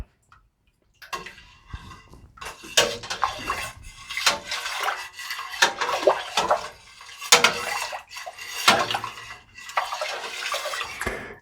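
A spoon stirring dark cherry mead must in a one-gallon vessel, giving repeated sloshing swirls and knocks against the container in uneven bursts after a second of silence, close by with no talking.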